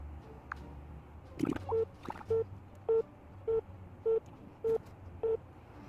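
A phone call being dialed and ringing out unanswered: after a brief thump, a steady series of about eight short, evenly spaced electronic tones sounds close and clear with no talking.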